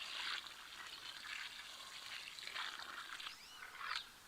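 Water poured from a container onto a garden plant to soak it down to the roots, a steady splashing trickle running for several seconds with brief stronger gushes, close by and with no talking.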